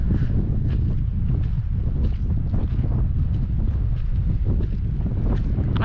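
Wind buffeting a microphone on a road trip from Kalgoorlie to Yulara in Australia, a steady loud low rumble that roars without let-up throughout.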